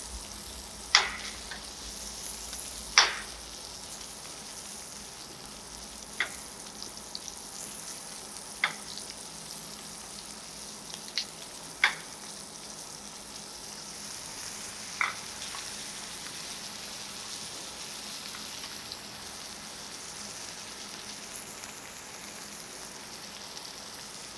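Meat grilling in butter and olive oil, a soft steady sizzle with occasional sharp pops and spits a few seconds apart, close but fairly quiet, no talking.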